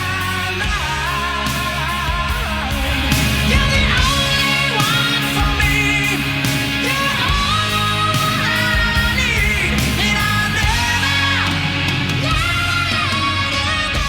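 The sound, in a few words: hair metal singer in a song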